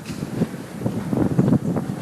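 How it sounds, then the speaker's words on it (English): Gusty wind buffets the microphone in low rumbling surges, steady throughout with stronger bursts toward the middle and end. "That's very windy."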